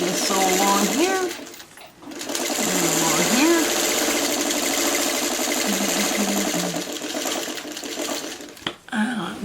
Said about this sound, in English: now let me just sew along here.